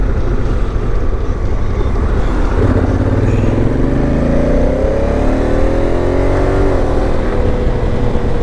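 A motorcycle touring alone across Europe is ridden at speed, with a steady engine drone rising in pitch as it accelerates under strong wind buffeting on the microphone.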